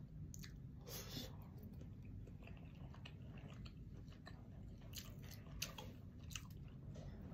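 Close, steady chewing and biting of HEB bagged shrimp boil eaten plain without sauce, soft crunches and wet mouth sounds repeating throughout over a low background rumble, with no talking.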